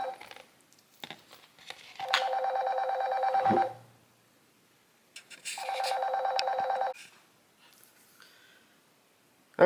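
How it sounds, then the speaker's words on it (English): A telephone rings in two long bursts, each lasting about one and a half to two seconds with a steady buzzing trill, separated by a pause, in a quiet room with faint handling noises between the rings. "my phone was ringing, so I had to stop recording"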